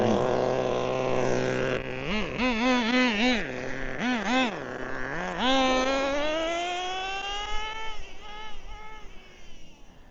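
Traxxas nitro RC car engine firing up and revving, a high whiny buzz that rises and falls in rapid bursts then climbs into a sustained scream, close and loud.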